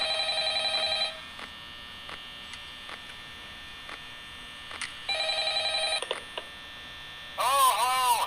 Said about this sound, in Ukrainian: це дзвонить минулий охоронець